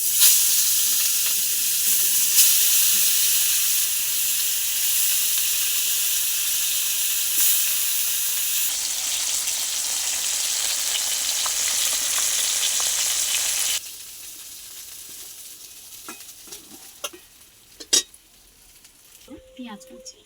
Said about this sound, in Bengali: কড়া করে লাল লাল করে এরকম করে ভেজে নেব।